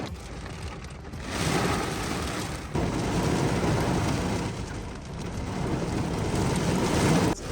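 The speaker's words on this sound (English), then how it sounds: "Every type of rain, like the Forrest Gumps" A heavy rainstorm outdoors, a dense, steady hiss of pouring rain that swells and eases slightly in waves throughout, loud and close, with no talking.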